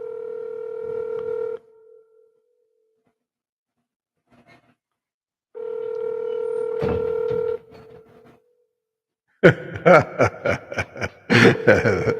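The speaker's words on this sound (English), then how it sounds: "You hear the phone ringing" Telephone keypad tones and a ringing phone, heard as two bursts of steady ringing tones separated by silence, followed by clattering handling sounds of a handset or receiver near the end.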